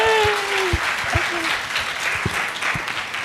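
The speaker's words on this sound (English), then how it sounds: "can we give them a round of applause?" Audience at a USAPPS 2024 conference session gives a round of applause: dense, steady clapping from a crowd filling the whole stretch, with a voice speaking over it near the start.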